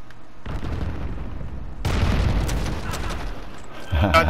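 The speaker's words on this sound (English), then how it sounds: "I'm about to throw some grenades over there" Grenade explosions in a shooter video game, deep booming blasts with a heavy rumbling tail, a second louder detonation partway through and more impacts toward the end.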